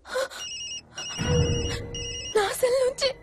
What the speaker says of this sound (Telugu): నా సెల్ నుంచి ఫోన్ వస్తుందంటే.